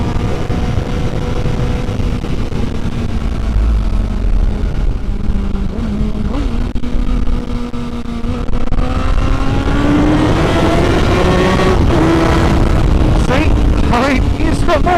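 A 2015 Honda CBR1000RR Fireblade pulling a fourth-gear roll-on, its engine note climbing steadily under loud wind rush from a rider-mounted microphone.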